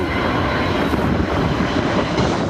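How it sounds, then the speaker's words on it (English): An Antonov An-225 cargo plane, a giant six-engined freighter, passes low over Perth. A dense, continuous engine roar stays loud and close throughout, with no voices. "The monster plane appeared over the Perth hills, a perfect landing, a cloud of smoke."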